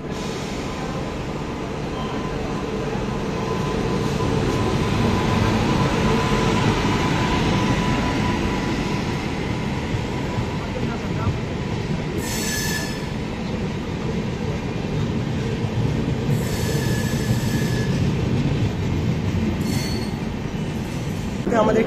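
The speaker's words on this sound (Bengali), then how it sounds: "আমাদের ট্রেন কিন্তু ছেড়েও দিয়েছে লোনাভলা স্টেশন থেকে" From on board, the Deccan Queen Express pulls out of Lonavala station with a steady, loud rolling rumble and several sharp bursts of wheel squeal.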